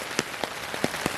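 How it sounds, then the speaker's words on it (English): Heavy rain falling on a farm, heard as a steady hiss with sharp drops tapping on a nearby surface at irregular intervals. "hopefully this rain stops"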